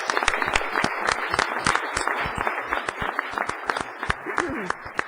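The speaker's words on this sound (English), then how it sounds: "I'd like to ask if we could give a final round of applause to our winners" A crowd at a city council meeting applauds award recipients with sharp, uneven claps that stay steady throughout, while voices talk underneath.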